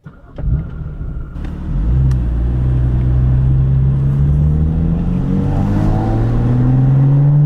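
A BMW F80 M3 tuned with a Bootmod3 burble map set to duration 1 and aggression 7 starts with a sharp crack, then its exhaust swells into a loud, steady, close-up drone with rising engine tones.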